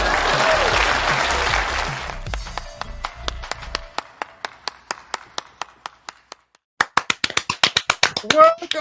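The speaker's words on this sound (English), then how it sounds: "Please clap." A small live audience at a nerd-culture debate show gives a brief burst of applause that quickly thins out into a few scattered, isolated hand claps, with a lone clapper picking up again near the end amid some talking.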